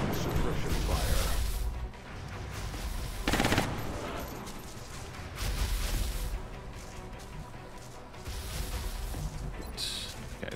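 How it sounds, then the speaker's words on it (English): Sustained machine-gun suppression fire in the turn-based strategy game XCOM: Enemy Unknown, dense mechanical rattling bursts with loud stretches and a few brief lulls, no speech over it. "Suppression fire."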